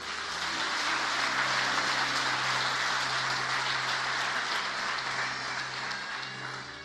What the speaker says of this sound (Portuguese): Dê um aplauso para ele.